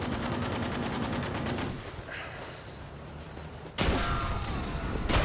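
Rapid machine gun fire in Battlefield V, a loud sustained burst of fast, evenly spaced shots that briefly falls back to a quieter din of distant gunfire before another heavy burst erupts near the end.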